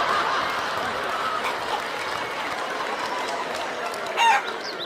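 Chickens cluck together in a continuous, fairly faint background chorus, and a short higher crow-like call rises briefly near the end. No one speaks.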